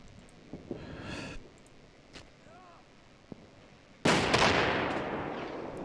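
A German Panther tank fires its cannon in the Combat Mission WWII tactical wargame, a single sudden loud boom with a long rumbling tail, preceded by quieter scattered clicks and faint distant shots.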